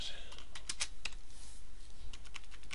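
Keys clacking on a computer keyboard while code is typed, in quick irregular bursts of close, crisp keystrokes with brief pauses between groups.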